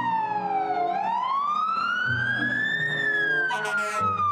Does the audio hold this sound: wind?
no